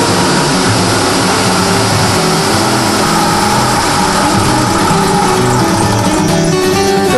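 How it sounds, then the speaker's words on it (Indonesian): A rice grinding mill runs steadily while it grinds soaked rice for kue jaran, giving a loud continuous mechanical drone that holds level throughout, with no voices over it. "Beras yang digiling haruslah beras rendaman, sehingga kerja mesin giling tidak terlalu berat."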